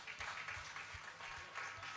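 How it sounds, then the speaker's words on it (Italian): An audience at a live music show claps briefly for a guitarist being introduced, a short burst of scattered, moderately loud clapping. "Facciamo un applauso al buon Armando."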